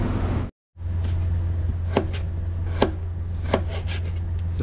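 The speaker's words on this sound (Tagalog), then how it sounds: "maghihiwa lang tayo dito ng sibuyas" A knife chops onion and ginger for a Filipino dried-shrimp and mung bean sauté, with a few sharp separate board strikes over a steady low hum, fairly close after a brief silent gap.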